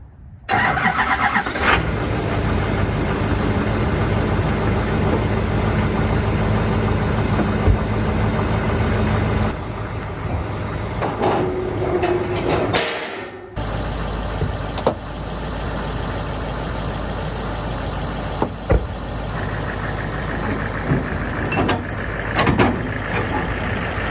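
Inside a Duramax truck towing a loaded trailer, a steady engine drone fills the cabin, with a brief dip in level midway and scattered small clicks and knocks over the continuous hum.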